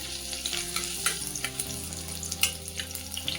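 Green chillies sizzle in hot tempering oil for sabudana khichdi, a steady close crackle broken by quick clicks and scrapes from stirring, with no voices.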